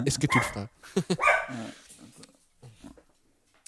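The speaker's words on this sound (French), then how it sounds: "C'est le chien qui a sonné la fin du podcast" A dog barks and yips a few times behind and between a French-speaking voice, short excited bursts fairly close, then a faint trailing whimper.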